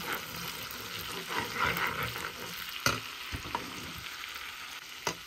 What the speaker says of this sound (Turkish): bir çorba kaşığı tereyağı güzel böyle eritiyorum